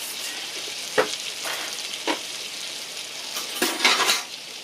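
Two cloves of minced garlic sizzle and fry in a pan for chicken breasts with pasta, a steady close hiss broken by a few soft clinks and stirs, with no talking.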